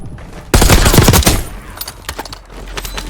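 Automatic gunfire erupts in a video game squad match, a loud rapid burst of shots for about a second followed by scattered single shots and clatter at lower level.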